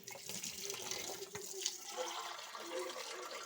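Liquid pours for a simple home experiment, a steady splashing flow lasting a few seconds at moderate level, with faint voices in the background.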